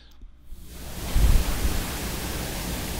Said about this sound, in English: I've got my pink noise generator, and that's what this will sound like